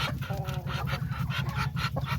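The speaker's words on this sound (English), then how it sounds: "We got some of the new chickens out here." Chickens in a farmyard cluck close by, a quick rhythmic series of short bursts over a low steady hum, with no talk over them.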